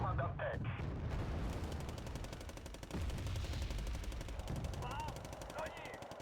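Rapid automatic gunfire in a video game, a dense continuous rattle of shots with heavy low thumps, sustained for several seconds alongside faint game effects.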